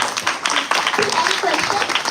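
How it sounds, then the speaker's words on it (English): A crowd claps and cheers loudly, with voices mixed into the applause throughout. "give yourselves a giant round of applause"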